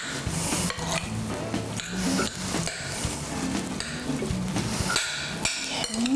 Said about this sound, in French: Bien mélanger comme il faut.